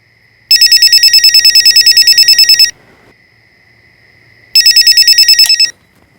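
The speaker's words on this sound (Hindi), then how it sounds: "सॉरी राहुल पुत्र, इतनी रात को फोन किया ना इसलिए।" A late-night telephone call rings loudly and close, two long bursts of rapid electronic trilling separated by a pause, over a faint background hum.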